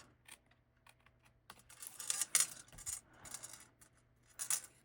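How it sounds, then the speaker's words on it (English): Scissors fussy-cut around a stamped paper piece for a card, giving close, crisp snips and paper rustles in irregular clusters against a quiet background. "let's fussy cut this"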